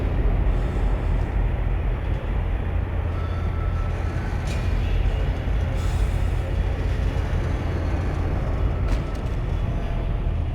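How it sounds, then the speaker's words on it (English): Tram arriving in the horror video game Dead Space, a steady loud rumbling roar of rail machinery that holds throughout without a break, with no speech over it. "Isaac, I'm sending the tram back to your location."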